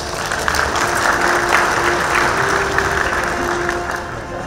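Sustained audience applause at a Thai award ceremony where plaques honoring drug-prevention work are presented, a steady dense clapping wash that holds evenly throughout with no talk over it.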